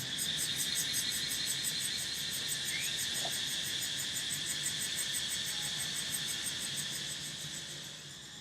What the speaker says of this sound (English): My apologies if the cicada are too loud.